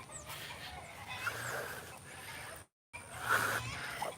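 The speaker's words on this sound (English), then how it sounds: "Let's go check out what's making the chickens go crazy." Chickens cluck and squawk on a farm with fruiting Eugenia, Garcinia and Plinia trees, moderately close over a hazy outdoor background, with a short silent gap partway through.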